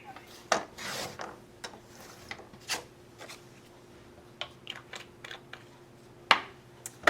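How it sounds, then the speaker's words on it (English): Card stock is notched and trimmed by hand while making a greeting card: quiet, scattered rasping and rubbing scrapes with a few sharper ticks, close by, with no one talking. "I'll notch it with my fingernail and trim off the excess."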